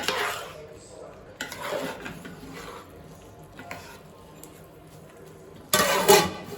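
A spoon stirs chicken pulao made with rice, coriander and ghee in a cooking pot, giving soft scraping and clinking with a louder clatter of utensil on metal near the end.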